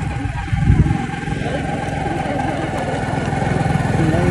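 Motorcycle riding along an unpaved dirt road, its engine droning steadily and close throughout with rumbling road noise and a faint voice over it.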